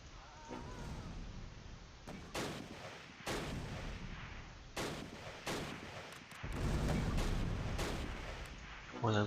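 Mortar impacts and gunfire from the WWII strategy game Close Combat: Last Stand Arnhem: a dense rumble of explosions and shots, with several sharp loud blasts spaced a second or so apart and a heavier sustained barrage toward the end.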